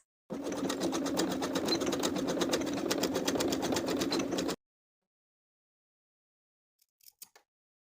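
A sewing machine bar tacks the short ends of a bralette's elastic in one steady, rapid run of stitching lasting about four seconds, followed by silence and a few faint clicks.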